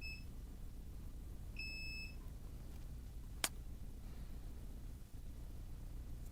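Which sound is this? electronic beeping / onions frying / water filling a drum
electronic beeping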